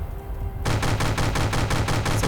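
Rapid bursts of gunfire erupt after a short quiet opening, a loud rhythmic automatic volley rattling on steadily in a Phantom audio drama battle scene.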